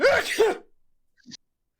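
A short burst of a sharp, breathy vocal sound close by, quickly fading to silence, followed by a brief faint noise.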